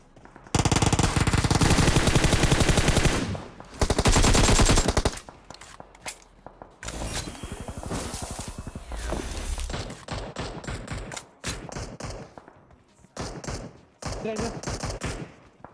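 Uzi gunfire in the mobile game Battlegrounds Mobile India: loud, dense automatic bursts up close, then choppier bursts and scattered shots mixed with in-game noise.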